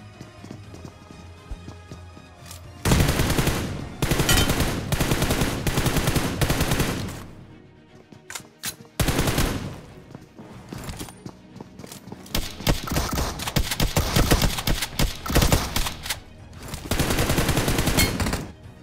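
Close-range shotgun gunfire in the battle-royale game BGMI, loud repeated blasts in dense bursts mixed with other game sounds, a short quiet gap between volleys.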